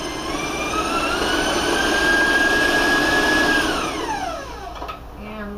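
Electric stand mixer raised to a higher speed, beating cookie dough for marshmallow cookies, a steady whining hum that climbs in pitch and holds before winding down near the end.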